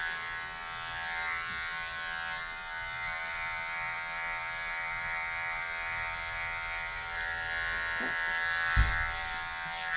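Electric clippers trimming the belly fur of a Moodle during a teddy-style groom, a steady close mechanical buzz humming without a break, with a single soft bump near the end.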